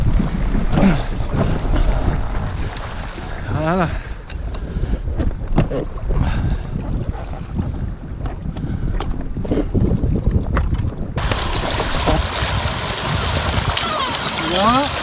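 A slow electric boat cruising at about 3 knots, with steady water wash and wind noise against the microphone, and people talking intermittently over it.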